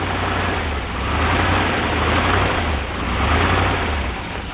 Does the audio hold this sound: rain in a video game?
no